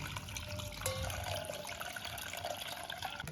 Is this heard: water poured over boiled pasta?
yes